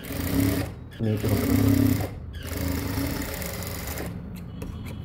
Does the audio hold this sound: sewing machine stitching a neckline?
yes